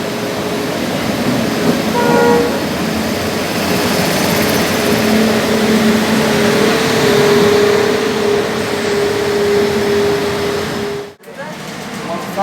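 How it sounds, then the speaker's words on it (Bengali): Samleswari Express pulling into Howrah station at night, a steady heavy rumble with a long low tone, close, then a sudden drop near the end, with voices talking faintly beneath. "বাজে রাত 1টা, ঢুকছে আমাদের ট্রেন সমলেশ্বরী এক্সপ্রেস হাওড়ায়"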